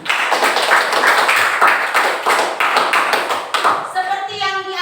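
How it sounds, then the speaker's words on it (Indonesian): Students in a classroom clap together in a dense burst of close, rapid hand claps lasting a few seconds. A voice speaks over the tail end. "Bagus, tepuk tangan buat kita semua"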